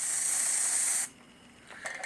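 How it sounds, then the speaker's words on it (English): A sprayer applies protective coating inside a hog barn, a loud steady hiss for about a second that cuts off sharply, followed by quiet and a few faint short hisses. "So we're just going to go ahead and spray it here."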